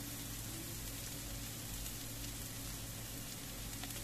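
Chicken masala with turmeric and garam masala powder sautéing in a pan for spicy chicken chattipathiri, a dense, even, hissing sizzle that holds constant throughout with no talk.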